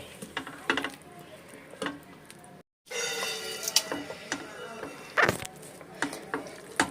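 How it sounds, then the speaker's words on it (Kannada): Eggs fry in a pan for egg kuska with a soft sizzle, broken by scraping and clinking stirs of a utensil against the pan and a brief silent gap partway through. "ಈಗ ಮೊಟ್ಟೆ ಹಾಕಿದ್ದೀನಿ ಸ್ವಲ್ಪ ಮೊಟ್ಟೆ ಫ್ರೈ ಮಾಡಬೇಕು ಚೆನ್ನಾಗಿ"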